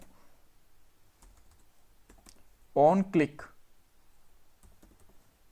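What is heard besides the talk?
typing code on a computer keyboard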